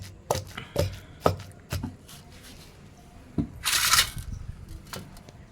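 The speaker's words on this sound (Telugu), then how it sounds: "ఇగోండి ఉల్లిపాయలు తగినన్ని మనం వేసుకుంటా దంచుకుంటా ఉంటే పెద్ద పెద్దగానే కోసుకోవచ్చు" Onions are pounded and cut by hand, with a string of sharp, evenly spaced thuds, a scraping rustle of the pieces in the middle, then a few more hits, close and loud, with no talk.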